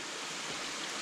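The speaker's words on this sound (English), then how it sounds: "Still water coming down, but not much." Water falling down a waterfall after hard rain, only a modest flow, heard as a steady, dense broadband rush with no other sounds.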